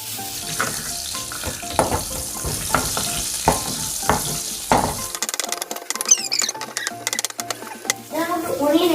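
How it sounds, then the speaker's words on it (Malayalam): Garlic hits leftover prawn-frying oil in a pan, with a few clattering knocks before a steady, close, crackling sizzle takes over; a voice talks in the background. "ഈ ഓയിൽ നമ്മൾ ഫസ്റ്റ് പ്രോൺ പൊരിച്ച് ഫ്രൈ ചെയ്ത ഓയിലാണ് നമ്മളിപ്പോ യൂസ് ചെയ്യുന്നത്. ഇട്ടെടുക്കാം. നമ്മൾ ഗാർലിക് ഇട്ടെടുക്കാം."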